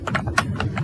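Keystrokes on a computer keyboard typing English text: about eight quick, crisp clicks in under a second, close and fairly even in rhythm, with no voices.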